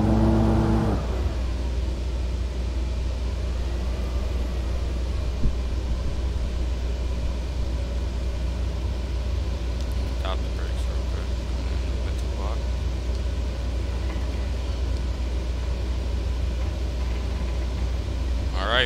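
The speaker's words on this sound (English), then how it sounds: "I push the throttle forward and I'll put in reverse thrust for me" An airliner in Microsoft Flight Simulator 2020 lands at Great Exuma with reverse thrust applied, a loud steady engine roar and low rumble sustained throughout, with faint clicks on top.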